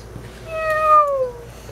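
A single drawn-out cat meow, close and clear, falling slightly in pitch over about a second against quiet background hum.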